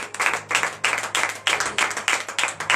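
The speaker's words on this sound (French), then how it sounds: "Donnez de vive acclamation à l'Éternel." Clapping during a morning prayer service in Benin, a group clapping in steady rhythmic bursts, fairly close and moderately loud, with no talking over it.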